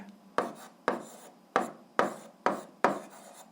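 Chalk or a marker scrapes a classroom board in six quick, evenly spaced strokes, close and fairly quiet, as an algebra expression is written out with no talk.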